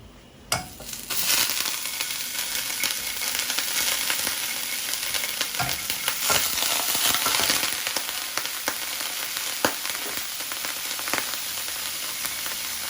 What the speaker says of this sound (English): And now, new saute pan and some more butter.